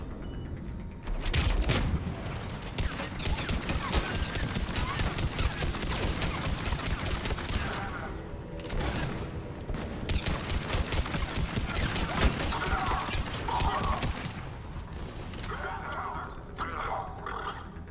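Sci-fi weapons fire in the shooter Mass Effect 3, with dense rattling bursts and booms running almost continuously while players talk excitedly over the combat.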